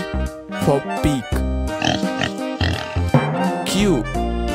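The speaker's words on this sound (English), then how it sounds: "P for pig." A pig oinks and grunts in short bursts layered over a children's alphabet phonics song with singing.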